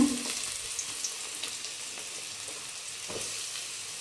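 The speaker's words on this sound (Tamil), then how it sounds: "ஒரு கடாயில் எண்ணெய் ஊற்றிக்கங்க. அதில் பொடியாக நறுக்கின வெங்காயம் சேர்த்துங்க." Onions sizzle steadily in hot oil in a pan, a close, constant crackling hiss with occasional soft pops.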